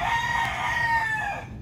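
A Sweater Kelso F1 broodcock rooster crows once, a loud, close, drawn-out call that tapers off at the end, with no talking.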